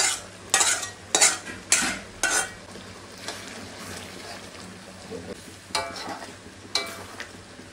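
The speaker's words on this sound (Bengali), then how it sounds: "এখন এর ভিতরে দিব হচ্ছে পেঁয়াজ বেরেস্তা" Chicken curry with fried onions sizzles in a pan while a spoon scrapes and stirs in several sharp bursts, with a steady low frying hiss underneath between the strokes.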